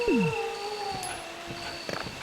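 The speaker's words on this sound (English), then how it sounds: "I hear another dog." A dog howls in the 1996 PlayStation game Resident Evil: a loud, close, drawn-out wail that slides downward, followed by lingering eerie tones and ambient game sound with no talking.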